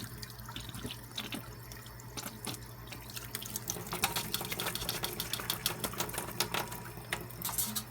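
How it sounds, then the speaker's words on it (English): Water splashing and trickling in small bursts as it is rinsed inside a hollow eggshell, against a faint steady hum, with irregular sharp drips and sloshes growing slightly louder. "then you just turn the egg over and you throw some water in there"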